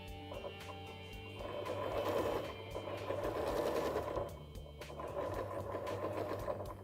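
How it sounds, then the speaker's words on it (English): A sewing machine stitches a narrow mock French seam with a steady, continuous mechanical whir that rises and dips slightly in a few bursts, moderately loud and close, with no talking. "just keeping an eye that our needle is about 2 mil as it's stitching down that seam allowance"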